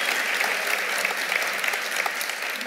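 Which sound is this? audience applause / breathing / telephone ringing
audience applause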